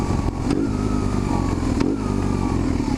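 A restored BMW R1150GS motorcycle being ridden, its engine running steadily and loud at close range with a constant drone, a few brief clattering ticks along the way, and no talking.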